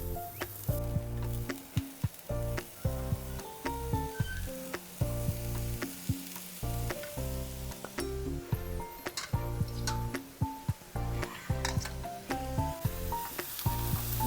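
Chopped yam stem with turmeric powder sizzles loudly in a pan while being stirred, the frying hiss broken by repeated clinks and scrapes of a spoon against the pan.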